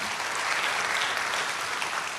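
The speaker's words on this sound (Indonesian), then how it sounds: "Yuk biar rame tempat ini kita kasih tepuk tangan dulu yang dahsyat" A church congregation bursts into loud, dense applause, a continuous roar of many hands clapping at once, steady from start to finish.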